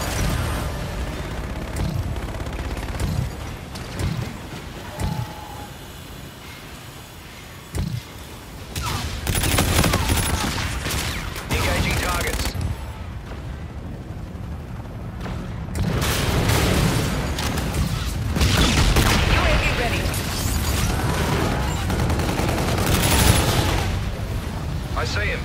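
Gun run strafing attack in Call of Duty: Infinite Warfare, with heavy bursts of gunfire and booming impacts in waves over a long stretch, loud and dense, and voices talking in between.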